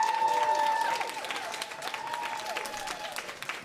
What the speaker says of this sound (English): give a round of applause to every single candidate who's made it to this election season